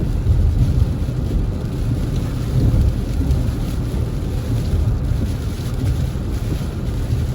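Steady rain pours on a rainy day in St. James near Montego Bay, Jamaica, as a cold front moves through, a loud continuous wash with gusty wind rumble buffeting the microphone, no voices.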